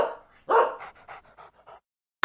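A dog barks once loudly, then pants in a quick rhythmic series of short breaths close by, followed by silence.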